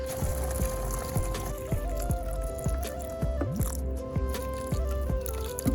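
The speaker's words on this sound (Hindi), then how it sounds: "अब समय के थोड़ा इसमें पानी दे दें" Water poured over newly planted seeds in soil gives a close run of repeated splashes and trickles, with small dribbling drops between the pours and no talking.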